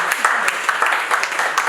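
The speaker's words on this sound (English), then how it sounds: "Please, can we put a round of applause for" An audience at a World Blood Donor Day event claps briefly, scattered claps under a speaker's voice at close range.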